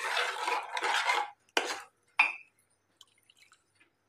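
Water poured into amti, a thin Maharashtrian lentil curry, in a pot, with a short splash and clink of a vessel against the rim followed by a few faint drips in a quiet room.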